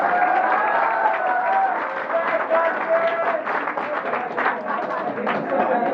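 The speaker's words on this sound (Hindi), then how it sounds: "तालियां।" Audience clapping at an agricultural foundation-day stage program, a steady crowd patter lasting throughout with voices talking over it.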